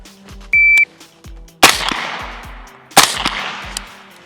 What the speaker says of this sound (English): Now I wanna try shooting it just standing up